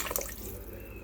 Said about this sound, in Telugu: ఇప్పుడు వాటర్ పోసుకుందాం.